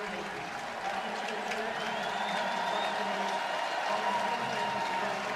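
A large arena crowd at the Breslin Center rises in a sustained standing ovation for Greg and Don before a Duke vs Michigan State men's basketball game, a dense steady roar of applause and cheering filling the hall.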